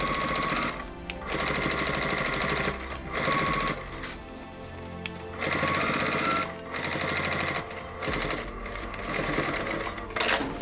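A sewing machine stitches a bag seam back and forth in several loud, rapid bursts separated by short pauses, close up and dominant, with a little quiet talk in the gaps.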